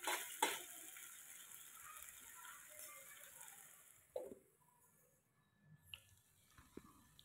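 Garlic chicken pieces frying in a pan and being stirred, a soft sizzle with scraping and a few clinks of utensil against the pan, quiet and close, tapering off toward the end.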